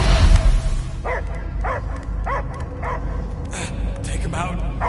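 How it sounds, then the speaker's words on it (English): A dog in the Marvel's Guardians of the Galaxy game barks in a series of five or six evenly spaced, mid-distance woofs, with characters talking around them. "I hear only barking"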